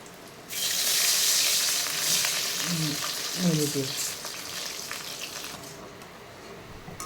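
Water splashes into a hot pan with cashews and raisins while making rava pongal, setting off a loud burst of hissing sizzle that gradually settles into a steady bubbling simmer.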